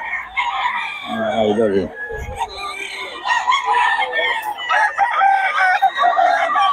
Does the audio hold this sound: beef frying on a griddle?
no